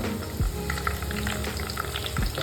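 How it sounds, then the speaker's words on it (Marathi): Curry leaves crackle and spit in hot oil in a kadhai for a tadka, a busy sizzle with a few stirring scrapes and no speech. "तडतडलेला आवाज येतो"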